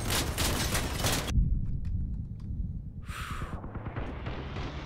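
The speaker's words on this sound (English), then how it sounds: "I got hit by a big gun." A big gun striking the player's armored vehicle in the Crossout combat game, a loud broad blast that ends abruptly and is followed by quieter scattered clatter and a short hissing burst of debris.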